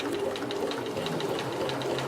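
Bernina sewing machine stitching a buttonhole, a steady fast mechanical whir with rapid regular needle ticks, close and continuous.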